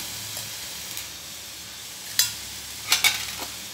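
Brinjal and drumstick pieces sautéed with chili powder in a pan, a faint steady sizzle punctuated by a few sharp scraping stirs near the end.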